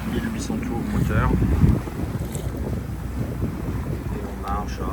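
Steady low rumble of a boat engine running at 1800 rpm at sea, mixed with wind buffeting the microphone and faint water noise, with occasional voices in the background.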